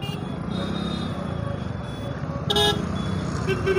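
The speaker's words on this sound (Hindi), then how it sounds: "और ट्रैफिक मुंबई जैसी ट्रैफिक हो गई है।" Dense road traffic on a busy street in Jafarabad, Gujarat, with a steady engine and tyre rumble and sharp horn toots cutting in loudly near the end, close to the listener.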